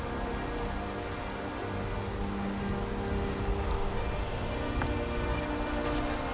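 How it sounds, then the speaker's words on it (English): Steady rain pouring in the Skyrim video game, a dense even hiss of drops on surfaces with no pauses, fairly loud and without voices. "Come on, it's still raining."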